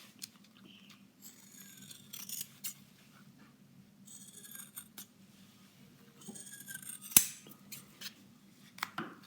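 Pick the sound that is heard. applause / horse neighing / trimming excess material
trimming excess material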